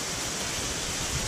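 A waterfall with no pool at its base, falling water sending drifting spray through a mountain forest, roars as a steady, loud, dense rush that fills the whole moment without a break.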